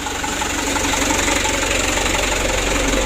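A diesel engine fitted with a Bosch injection pump runs steadily at idle during a low-cost repair test, a loud, close, continuous knocking rumble with no talk.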